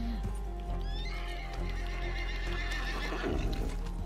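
A horse whinnies in Red Dead Redemption 2, a long neigh rising over steady game ambience with hoof clip-clop and a low rumble, ending in a louder burst of movement.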